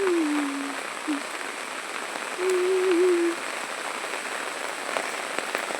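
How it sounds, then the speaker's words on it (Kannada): Rain falls all day on a village in the rainy season, an unbroken patter on surfaces with a couple of faint high whistling tones drifting over it. "ಇವಾಗ ನಮ್ಮೂರು ಒಂಥರ ಇಡೀ ದಿನ ಮಳೆ ಸುರಿತಾ ಇದೆ"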